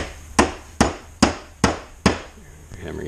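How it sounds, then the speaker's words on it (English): Five sharp hammer blows strike wood at an even pace, loud and close, followed by a faint rustle. "You're hammering into the other piece."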